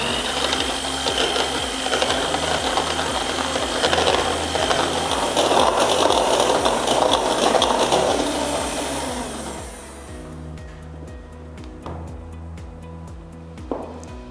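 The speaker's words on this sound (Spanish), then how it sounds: "Ahora lo que vamos a batir serían nuestras claras." An electric mixer beating egg whites whirs steadily with a rhythmic mechanical drone. Its pitch and loudness drop partway through, and a few light knocks follow.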